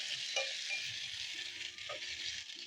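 Potatoes and tomatoes frying in a pot with spices, giving a steady soft sizzle with a few light stirring clinks, at moderate distance and with no talk.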